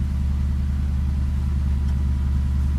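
Subaru Impreza GC8 engine idles steadily in a garage, a low, even rumble heard close up with no talking.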